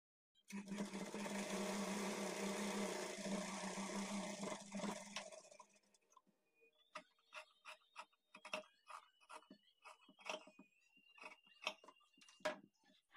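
A sewing machine runs in one steady whirring burst while stitching the side joint of a blouse, then stops, followed by light scattered taps and rustling of fabric handling.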